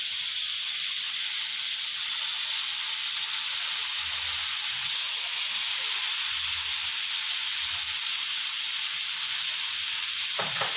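Featherback fish balls stir-fried in green curry paste for a dry green curry give off a loud, steady sizzle that carries on unbroken from start to finish, with no talking.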